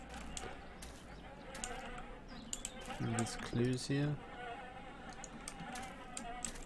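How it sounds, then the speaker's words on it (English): A swarm of flies or bees in the video game The Town of Light gives a faint, continuous buzzing drone in the background while a person speaks briefly over it. "Lots of flies or bees."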